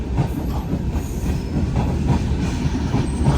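The Duronto Express thunders past on the neighbouring track, a loud, close rumble of rolling carriages with rhythmic clatter and light wheel squeal, steady and building slightly toward the end.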